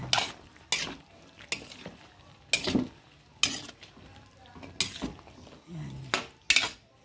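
Spoon scraping and clinking against a cooking pot while stirring a dish with peas, in repeated strokes close by, with brief speech between.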